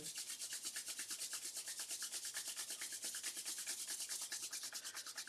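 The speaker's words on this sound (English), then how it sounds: "Rub the palms one more time." Palms rubbed briskly together during a Surya Namaskar yoga session, a close, steady, continuous swishing friction with a fast even rhythm and no talk over it.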